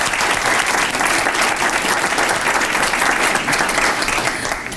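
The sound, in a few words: audience applause for students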